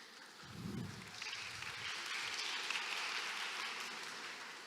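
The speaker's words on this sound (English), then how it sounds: "I guess the applause was for Anna and more than you." Faint, distant applause in a hall at a cultural grants fair, a soft wash of clapping after a brief low murmur, fairly quiet throughout.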